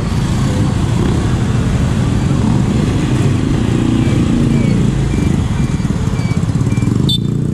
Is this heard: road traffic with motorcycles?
yes